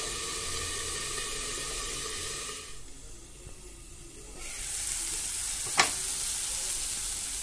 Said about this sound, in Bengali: আমি 2-3 মিনিট ভালো করে নেড়ে দিয়েছি, অর্ধেক ভাজা হয়েছে